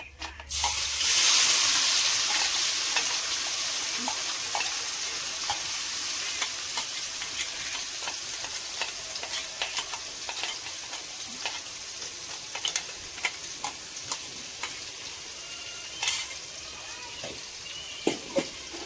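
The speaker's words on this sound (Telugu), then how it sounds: "పచ్చి వాసన పోయేంత వరకు బాగా వేగనివ్వాలి" Ground masala paste frying in hot oil for an okra curry, stirred in a pan: a steady close sizzle with scraping stir strokes running throughout, louder at the start and then settling.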